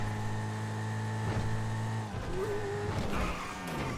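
The Coquette sports car engine in GTA5 hums with a steady droning idle, then shifts pitch as it revs and changes tone, heard close and continuous without any talking.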